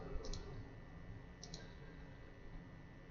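Computer mouse clicks while working in Excel Solver, two pairs of faint, close clicks about a second apart over a quiet steady hum.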